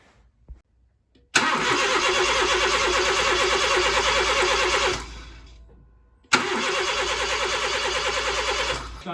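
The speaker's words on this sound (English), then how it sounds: "I'm gonna now crank the car and then build some oil pressure" A car engine with its spark plugs out cranks loudly and steadily for several seconds to build oil pressure, stops, then cranks again after a short pause, with no talking.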